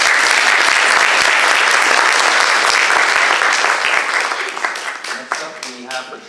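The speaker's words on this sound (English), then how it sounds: "thank you for the round of applause for Todd White" Loud audience applause for a candidate at a candidates night in a high school, dense and close for about four seconds, then thinning into scattered claps as a voice begins talking.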